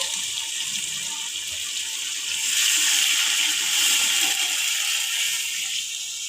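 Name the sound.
water poured into a pot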